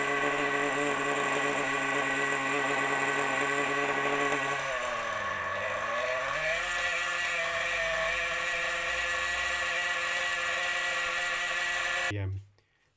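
A small RC nitro engine fitted with a stinger pipe exhaust drones steadily at close range with a buzzing, harmonic-rich tone, dipping and rising briefly in pitch midway before cutting off abruptly near the end.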